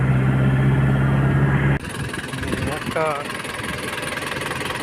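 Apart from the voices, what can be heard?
Nissan Big-M pickup truck engine idling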